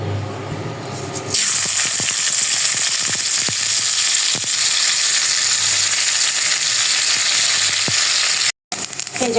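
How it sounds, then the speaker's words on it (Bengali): Black cumin seeds fry in hot oil in a wok, a loud steady sizzle that bursts in after a quiet start and carries on with occasional sharp spatters and stirring scrapes, a brief dropout near the end. "এই যে কড়াইতে এখন আবার একটু তেল দিয়ে নিব কালো জিরাগুলো ভাজার জন্য।"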